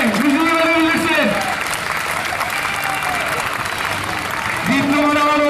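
Graduation crowd clapping steadily at an outdoor ceremony held at the sea, with music playing and an announcer's voice over the applause.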